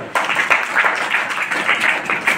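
An audience at a summer camp claps together in a quick, fairly regular rhythm, a dense nearby patter of many hands that keeps going without pause.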